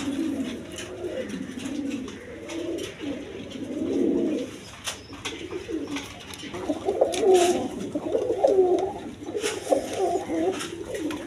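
Indian Bombay pigeons coo in soft repeated rolling phrases close by, with a faint background murmur.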